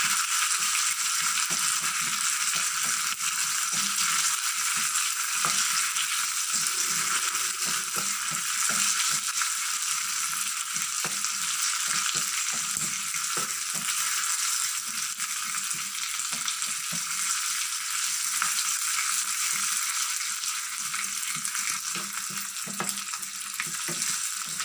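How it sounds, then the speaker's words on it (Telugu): Fennel seeds fry in hot oil in a pan with a continuous bright sizzle and faint crackling pops, close and steady throughout, with no talking. "సోపులు బాగా వేగనిద్దాం. సోపు ఎంత బాగా వేగితే అంత టేస్ట్ వస్తుంది కూర."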